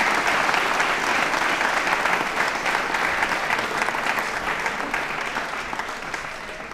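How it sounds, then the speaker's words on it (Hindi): Sustained audience applause at a quiz show on elections held at a technology and management institute, a dense steady wash of clapping from a crowd that holds evenly and tapers only slightly toward the end. "तालियां जोरों से बजाइए इनके लिए फिलहाल।"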